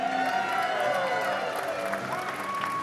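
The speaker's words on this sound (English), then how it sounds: "give a huge cheer to these two guys" Crowd at a Classic Tetris championship cheering and clapping for the two finalists, a brief steady wash of applause and whoops at moderate distance.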